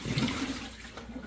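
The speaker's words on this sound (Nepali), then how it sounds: "म पानी चेन्ज गर्न आँटेको।" Water pours and splashes out as a houseplant's water is changed, a steady near gush for about a second that thins toward the end.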